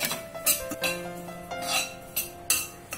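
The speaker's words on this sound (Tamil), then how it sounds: "இந்த ஓட்ஸ் எடுத்து நம்ம நல்லா வறுக்க போறோம். வெறும் சட்டியில ஊத்தாம பிளைனா வறுத்து இதை பொடி பண்ண போறோம்." Oats dry-roasted in a bare pan, with scraping and clinking of a spoon or spatula against the metal in irregular bursts, close and moderately loud, no talk.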